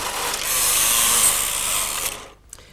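A Brother KH950i knitting machine carriage slides across the needle bed in one continuous pass, giving a steady close ratcheting, clicking rasp that stops near the end, followed by a faint click.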